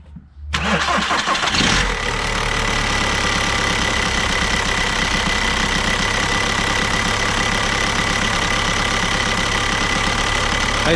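A VW Audi 1.9 TDI diesel engine cranks and catches, then settles into a steady, rough idle with a shaky, uneven clatter close by for the rest of the clip.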